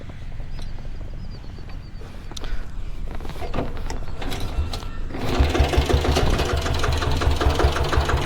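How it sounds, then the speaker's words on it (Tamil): A 6.5 HP diesel Bullet motorcycle engine runs with a steady low chugging idle throughout, growing louder and fuller about five seconds in as it revs up, with no talking. "அப்படியே வண்டியை ஸ்டார்ட் பண்ணி காட்டுறேன் பாருங்கள் எப்படி அப்படின்ட்டு"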